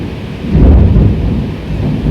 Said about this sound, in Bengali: খালি বিদ্যুৎ চমকাইতেছে আর ঠাড়া পড়তেছে